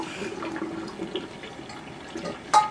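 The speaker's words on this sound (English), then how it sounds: "we're just going to strain the pasta so that all the water goes out one end, pasta stays in the other" Cooking water from a pot of pasta pours and drains through a strainer in a steady, close rush, ending with a short clatter.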